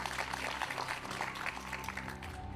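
A quiz show's studio audience claps for a superfinalist in a steady, even patter that holds for a couple of seconds over background music, with no one talking.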